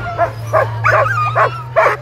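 Sled dogs of a 13-dog team yip and bark in the starting chute at the Fur Rondy Open World Championship race in Alaska, five loud close barks spaced evenly over a steady low hum.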